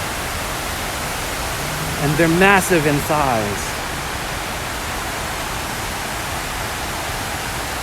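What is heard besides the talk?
water falling into 9/11 Memorial reflecting pools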